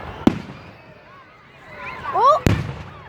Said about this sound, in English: How many fireworks are we doing exactly?